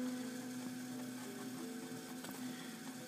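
Stainless steel bidet wand extending from a Kohler Numi toilet, a faint steady motorized hum with a soft whirring drone throughout.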